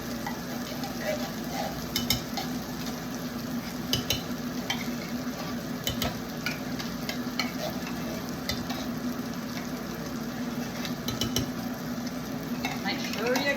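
A spoon stirs cream of mushroom soup and milk together in a bowl for a casserole, making repeated soft scraping and clinking strokes. The sound is close and fairly quiet, with a faint sizzle-like hiss underneath.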